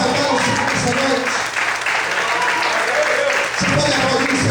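A church congregation applauds in a broad, steady wash of clapping, with a brief dip midway, while a voice carries over part of it.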